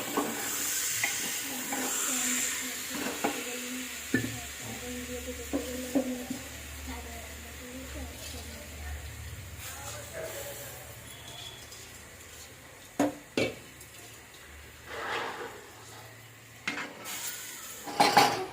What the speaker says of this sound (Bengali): পেঁয়াজের সাথে চাল ডালটা ভালো করে মিক্স করে নেওয়া হচ্ছে